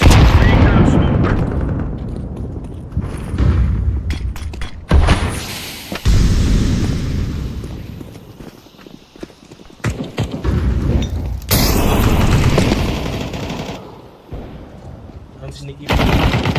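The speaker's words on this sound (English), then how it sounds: "Throwing a grenade." A grenade explosion and gunfire in a video game, with rapid bursts of shots and heavy booms that swell and fade repeatedly, loud and close, mixed with brief game voice callouts.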